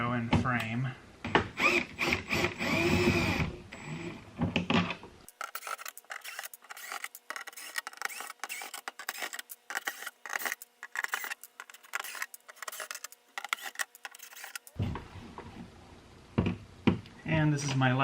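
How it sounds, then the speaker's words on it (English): An old window and frame are unscrewed from an RV door, with close clicking, ratcheting and knocking tool sounds in bursts, and a person talks before and after the work. "First step is to remove the old window and frame."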